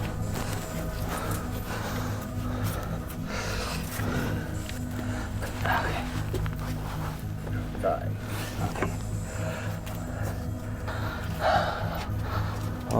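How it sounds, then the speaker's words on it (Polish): Heavy, raised breathing from a person crawling through a tight cave passage, with close gasps and puffs over rustling and scraping, and a few brief murmurs between breaths. "Oddech podwyższony."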